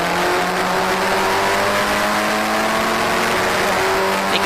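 Historic Formula Ford race cars lap together at Cadwell Park, several engines droning loudly and steadily with layered pitches as a group passes at speed.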